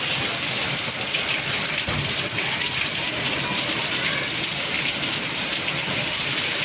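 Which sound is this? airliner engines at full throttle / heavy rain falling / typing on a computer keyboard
heavy rain falling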